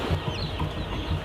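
A dense crowd of chickens clucking and peeping inside a poultry farm shed, a steady close chatter of many birds filling the space with no pauses.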